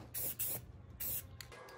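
Spray paint hissing onto electric go-kart motor brackets in a few quick bursts, quiet and close with short gaps between.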